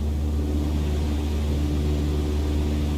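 A single-engine propeller aircraft in Microsoft Flight Simulator 2020 drones steadily at around cruise power, a constant loud engine hum with no variation and no talking.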